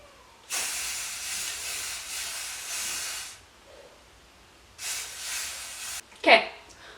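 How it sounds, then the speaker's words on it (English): Two long hissing bursts from a spray paint can coloring sola wood flowers, the first about three seconds and the second shorter, close by with a brief sound afterward. "Now, to spray paint, it's very simple. You just take your spray can"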